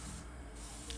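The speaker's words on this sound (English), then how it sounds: "Just take the matte color, spray it on there" Clear matte PlastiDIP coating is sprayed from an aerosol can onto a mask, one continuous close hiss lasting about a second.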